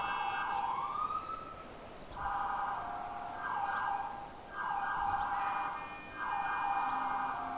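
Police sirens wail in Liberty City in GTA World, rising and falling in repeated sweeping cycles, moderately distant and steady, with no talking.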